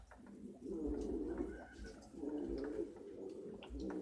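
Pigeons coo softly near their water, repeated low throaty rolling calls coming in several overlapping bursts, close but faint, over a quiet outdoor background.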